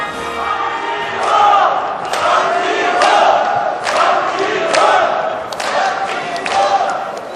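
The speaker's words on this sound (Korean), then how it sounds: "역시 큰 박수로 모시겠습니다." A crowd at a political party's presidential nomination convention claps and cheers in rolling waves, swelling and easing several times, with shouts rising from the packed hall.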